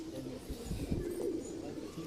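A full-sized high flyer pigeon coos close by in a loft, a low soft throaty murmur running steadily through the moment with no clear pauses.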